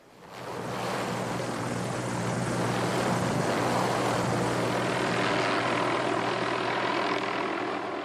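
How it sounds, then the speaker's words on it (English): A helicopter flies over mountains, its engine and rotor fading in quickly, then holding as a loud, steady drone for several seconds with no talk. "the best way to get into these mountains and look around is with a helicopter"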